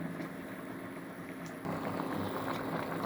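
A pot of poplar mushrooms bubbles on the stove in a steady broadband boiling hiss, close and quiet, growing slightly louder and rougher halfway through, with no speech.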